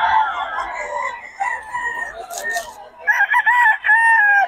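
Roosters at a cockfighting market in Bocaue crow loudly and close by, with several long cock-a-doodle-doo calls overlapping one after another and a brief spell of other noise between them.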